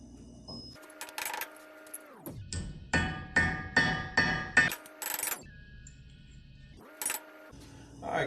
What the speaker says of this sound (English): I'm going to go hammer this out, make it or flatten it out real quick